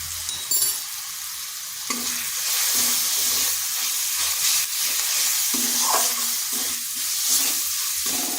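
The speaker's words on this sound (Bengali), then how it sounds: "মশলাটা ভালো করে কষিয়ে নিতে হবে" Ground turmeric, cumin, coriander and Kashmiri chilli powder fry in oil in a pan, giving a constant bright sizzle broken by repeated scraping stir strokes at an uneven pace.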